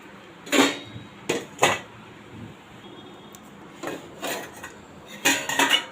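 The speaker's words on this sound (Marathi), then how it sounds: "झाकणच मारूया परत" A metal lid clanks back onto a pan where a vegetable and cheese sandwich is toasting: several sharp clatters in uneven bursts, close and fairly loud, with quiet gaps between and no voices.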